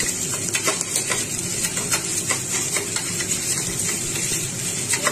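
Washed urad dal (black gram) being stirred into lightly browned onions in a hot pan, a close, steady sizzle with rhythmic scraping strokes from the stirring, no talking.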